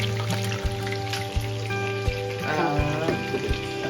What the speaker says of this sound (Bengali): মা এখানে রান্না করছে চিকেন পকোড়া